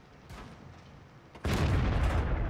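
A tank cannon fires in World of Tanks, a heavy close boom that bursts in abruptly and rumbles on after a quieter stretch of low battle ambience.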